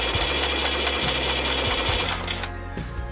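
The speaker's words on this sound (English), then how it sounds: "That is a stock machine gun sound effect." Nerf LMDT Aliens pulse rifle toy playing its stock machine-gun sound effect: a rapid, steady electronic rattle of repeated shots with a buzzing, mechanical tone, loud and close, running continuously for about three seconds before thinning out.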